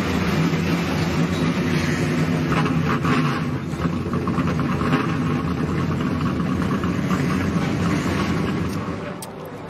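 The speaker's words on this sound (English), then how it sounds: "Drivers, start your engine." NASCAR Camping World Truck Series race trucks at the Wise Power 200 firing up and idling together, a dense continuous rumble of many engines that stays steady throughout.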